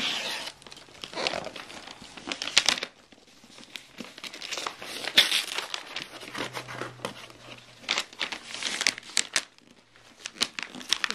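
Cardboard paper packaging around an AGM MP40 airsoft gun is pulled open in bursts of crinkling, crumpling and tearing, close up and uneven, with short quiet pauses between handfuls.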